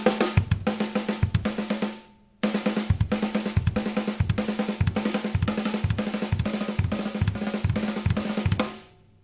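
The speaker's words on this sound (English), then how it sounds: "A four and two pattern would sound like." Snare and kick played in a four and two drum pattern, rapid even strokes with periodic heavy accents, a brief pause after two seconds, then continuing steadily and decaying at the end.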